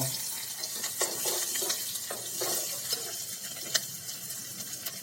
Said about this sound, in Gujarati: તેમાં આપણે કટિંગ કરીને જે રાખેલું છે મરચાં લસણ અને લીમડો જે વઘારમાં આપણે અંદર નાખી દીધો છે